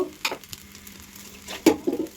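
Water poured into a pan of fried broken rice with turmeric brings sharp bursts of sizzling, a couple of quick crackles then a louder spitting hiss near the end, close up.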